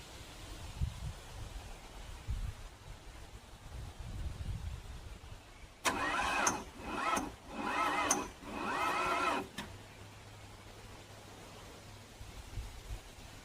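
A car engine's starter cranks in a tuning project car, a loud whirring burst with three or four rhythmic pulses lasting about four seconds, set between quieter stretches of outdoor background.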